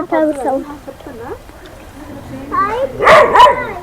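Dogs, a mother with young pups, yip and bark in short bursts, loudest toward the end, mixed with people talking nearby in a village backyard garden.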